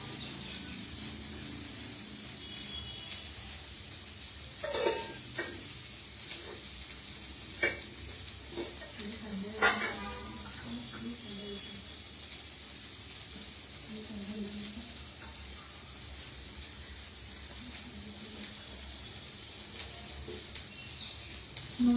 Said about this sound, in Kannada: ಈ ಥರ ಗೋಲ್ಡನ್ ಬರೋ ತನಕ ಅದನ್ನು ನಾವು ಫ್ರೈ ಮಾಡ್ತಾ ಇರಬೇಕು